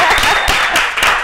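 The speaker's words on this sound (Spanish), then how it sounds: "¡fuerte el aplauso!" Studio audience applause for a guest on a talk show, a short loud burst of dense clapping that fills the whole moment.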